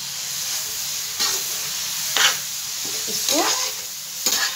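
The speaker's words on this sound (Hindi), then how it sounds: "पूरे घी में अच्छी तरह से मिला लेंगे।" Grated carrots stirred in hot ghee over a high flame for carrot halwa, giving a steady sizzle broken by several sharp scraping stirs, fairly close, with a brief spoken word.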